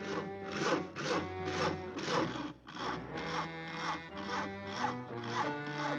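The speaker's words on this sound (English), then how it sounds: "Isn't that your house Harry is sawing on?" Rhythmic back-and-forth sawing strokes rasp steadily through a tree limb, about two per second, moderately distant and fairly quiet.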